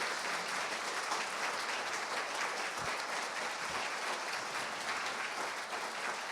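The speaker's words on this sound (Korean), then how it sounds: "다시 한번 힘찬 박수 보내주시기 바랍니다" Sustained audience applause fills a hall at a Korean agricultural and rural award ceremony, dense and steady throughout with no talk over it.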